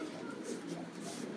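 Pigeons coo softly at a fancy pigeon farm, a low steady murmur of birds under a faint background wash.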